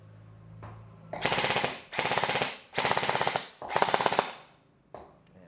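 An airsoft gun fires four loud, rapid full-auto bursts, each about three-quarters of a second long and separated by short pauses, followed by a faint click near the end.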